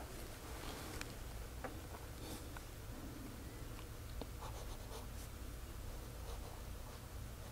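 A Waterman Phileas fountain pen with a medium nib writes on paper, producing quiet close scratching strokes and light taps against a soft hiss.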